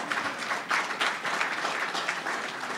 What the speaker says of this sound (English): from that applause, for which I thank you